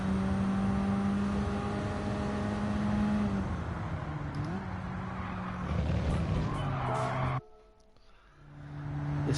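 Tires squeal and scrub as a car in Gran Turismo 7 struggles for grip, with a sustained engine drone shifting pitch through the corner before it suddenly drops away and returns.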